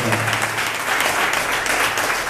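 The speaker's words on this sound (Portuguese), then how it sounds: "aplauda o Mestre" A church congregation applauds loudly and steadily during an ordination service for deacons and church workers, a dense continuous wash of many hands clapping close by with no talk.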